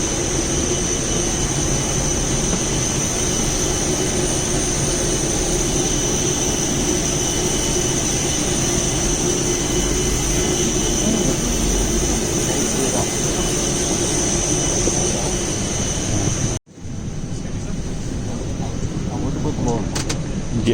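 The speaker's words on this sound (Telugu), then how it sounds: "ఫ్లైట్లోకి ఎక్కుతున్నాం." A steady airplane cabin hum fills the space while passengers board a flight from Vizag, a constant engine and ventilation drone with faint background voices, cut off abruptly near the end before a quieter room tone takes over.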